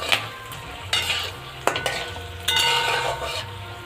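Bay leaf, black cardamom, cinnamon and cloves stirred in hot oil for chicken dum biryani, a continuous crackling sizzle with several sharp metal clanks of a spoon against the pan, close and fairly loud.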